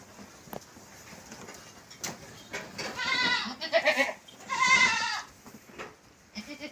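Goats bleat several times in close succession, loud and near, over a quiet background with scattered small knocks, in a goat shed during the monsoon.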